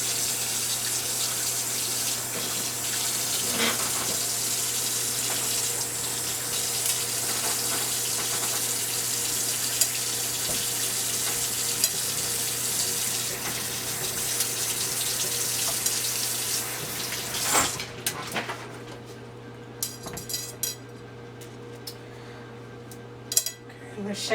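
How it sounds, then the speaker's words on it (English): Cut jalapeno peppers rinsed under a running kitchen tap, a steady close hiss of water spraying into a sink that stops near the end, leaving light clinks and handling noises. "I'm also going to rinse some of these peppers."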